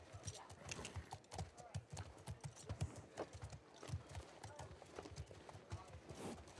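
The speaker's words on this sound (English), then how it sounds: "Ooh, horses." Rhythmic clip-clop of horse hooves on a hard surface in The Last of Us Part II, steady and fairly close, with speech-like voices and light movement mixed in.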